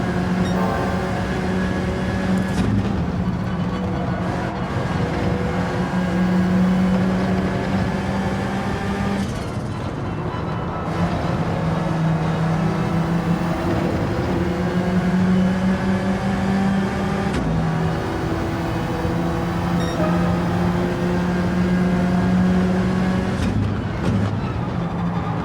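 A race car engine droning steadily in the slipstream of another car in Gran Turismo 7, a loud sustained whine with gear-shift dips every few seconds, holding close and constant throughout.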